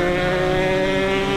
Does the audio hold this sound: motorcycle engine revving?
yes